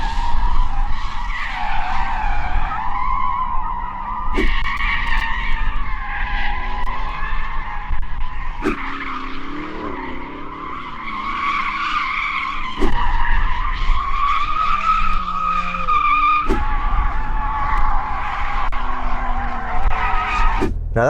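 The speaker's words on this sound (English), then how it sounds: "There's one more thing we need to do before we race, actually. That's warm the tyres." Several Porsche cars warm their tyres before a drag race, producing long, loud, continuous tyre squeal and skidding over roaring engines, broken by a few sharp cuts.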